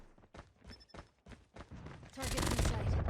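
Gunfire rattles in Call of Duty, with several short separate shots followed by a loud sustained automatic burst near the end. A player talks over the firing.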